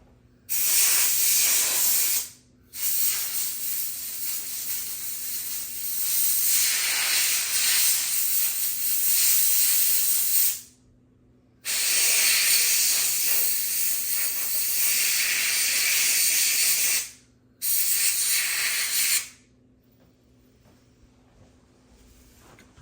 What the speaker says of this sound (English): Compressed air is always your best friend.